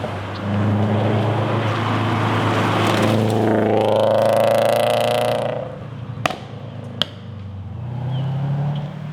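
A Scion FR-S fitted with new coilovers and sway bars drives up close, its engine note rising and falling as it passes. The engine fades away after the pass, and two sharp clicks follow.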